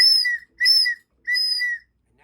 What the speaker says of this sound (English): You're going to get an exhaust stroke whistle.